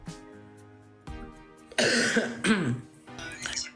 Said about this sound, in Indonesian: saya lagi batuk teman-teman